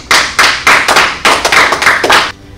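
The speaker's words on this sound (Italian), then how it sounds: "Applauso." A small group claps in several short, loud bursts, a few seconds of close, sharp hand claps that rise and fall in quick pulses before stopping abruptly, during a military call-up ceremony.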